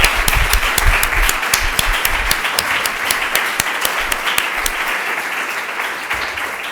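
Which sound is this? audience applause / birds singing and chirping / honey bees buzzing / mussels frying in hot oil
audience applause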